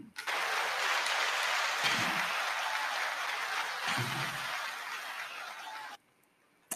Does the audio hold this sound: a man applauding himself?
yes